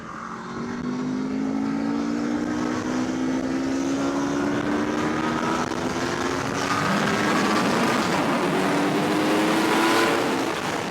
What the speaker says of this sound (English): The way the torque comes on in this bike is so different than the Ducati.